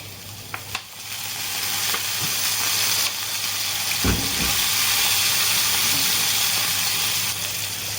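Vinegar hits a hot frying pan and sizzles steadily, a loud hiss that swells and holds, with a few faint clinks at the start.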